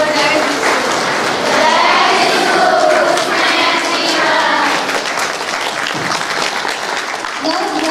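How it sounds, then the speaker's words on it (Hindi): Loud, continuous applause from a large crowd at a religious first profession ceremony fills the whole stretch, dense and steady with a slight easing toward the end, voices mixed in. "उन्हें तालियों की गड़गड़ाहट से हार्दिक बधाइयाँ और शुभकामनाएं देंगे।"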